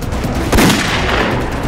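Gunfire in a mountain ambush battle, a single sharp report rising briefly above a steady background of distant noise.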